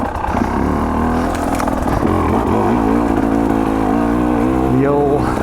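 A 2024 KTM 300 XC-W two-stroke dirt bike engine revs loud and close on a wooded trail, its pitch rising and falling as the throttle is worked.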